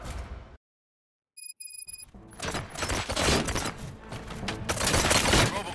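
Rapid gunfire in the Robocop: Rogue City game, a dense burst of loud shots and impacts that follows a short silence and a few electronic beeps, building into sustained close fusillade.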